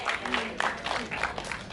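A crowd at a film event applauds, dense clapping with some overlapping voices mixed in, loud and close, in uneven bursts.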